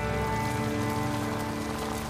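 Steady, dense rain patter in the video game Days Gone, with a constant droning hum running underneath, continuous and unbroken throughout.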